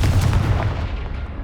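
A Confringo blasting spell explodes in Hogwarts Legacy: one loud, close, booming blast that fills the whole moment and then slowly rumbles away.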